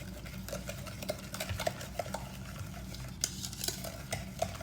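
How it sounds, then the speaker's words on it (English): Oat flour apple cinnamon cookie dough stirred by hand in a bowl, with soft rhythmic scraping and light spoon taps against the bowl at close range, fairly quiet. "Give that a good mix."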